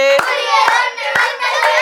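Children clap in time with a Tamil song at a writers' meet with young readers. Four sharp, evenly spaced hand claps land about half a second apart over clear sung voices.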